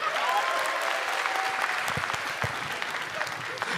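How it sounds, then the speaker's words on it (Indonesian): An audience at an Indonesian stand-up comedy show breaks into steady applause after a set, a dense, even wash of clapping throughout with a few louder claps standing out. "Beri tepuk tangan sekali lagi untuk Mukmin dan juga Eja."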